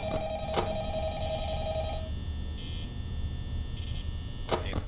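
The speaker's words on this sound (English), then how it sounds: "Phone call!" A telephone rings in the horror video game Five Nights at Freddy's, an electronic ring that sounds for two seconds, then quieter tones and a final burst, close and clear with a voice briefly present.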